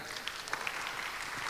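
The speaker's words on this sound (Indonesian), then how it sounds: "Tepuk tangan untuk Pak Ian." Scattered audience clapping at a forum discussion on media art and creative cities, a modest crowd with a few sharper individual claps standing out, fairly soft and brief, no speech over it.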